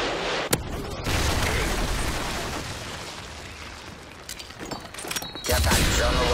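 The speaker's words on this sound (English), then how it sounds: "Friendly Predator missile inbound." Predator missile strike explosions in Call of Duty: Modern Warfare 3 team deathmatch on Piazza: a sharp crack followed by a long rumbling roar, then further bursts and a heavy boom near the end.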